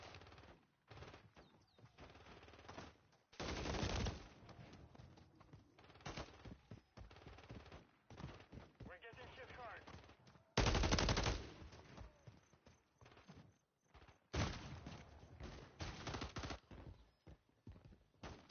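Video game gunfire crackles in rapid automatic bursts and single shots, loud and close, with dense volleys broken by short quieter gaps.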